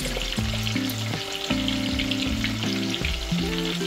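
Salmon frying in a pan, a loud, constant sizzle with crackling spatter near the mic, while steady humming tones run underneath.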